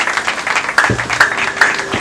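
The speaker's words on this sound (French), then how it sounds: "Applaudissez très fort pour l'eau de la régie des eaux." Audience clapping at the opening ceremony of a Longrich L&D stockist shop: a short burst of dense applause with a few tonal sounds mixed in, steady throughout.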